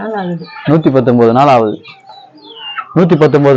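Native village chickens in a small backyard flock, with a rooster crowing loudly and close by in repeated calls, separated by a brief pause.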